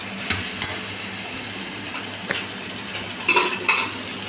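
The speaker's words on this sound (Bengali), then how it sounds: "দেখুন ভালোভাবে সুন্দরভাবে কষিয়ে নিচ্ছি মাংসটা" Mutton stir-frying with spices in oil in a pot, a close, fairly loud sizzle with occasional metallic clinks and scrapes of a spoon against the pan.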